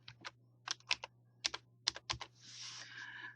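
Quick bursts of keystrokes clatter on a computer keyboard during close, quiet typing, with irregular clusters of clicks followed by a longer soft rustle at the end over a faint electrical hum.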